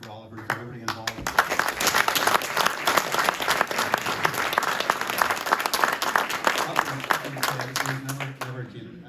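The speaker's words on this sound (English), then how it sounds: "I just want to offer a round of applause for Father Peter, for Oliver, for everybody" Audience applause at a CD launch night, a dense, steady wash of many hands clapping for about nine seconds, loud and close, with speech-like murmurs at the start and end.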